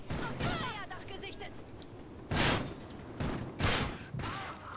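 Gunfire rings out in the video game Call of Duty: Ghosts, several loud, sharp bursts standing out above a busy background of game sounds and mechanical clatter.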